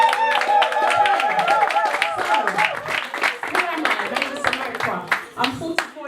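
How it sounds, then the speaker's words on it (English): A seminar audience gives a round of applause, a dense, steady clapping that fills the room and slowly thins out toward the end, with a voice speaking over it. "give me a round of applause"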